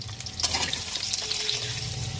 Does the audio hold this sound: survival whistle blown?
no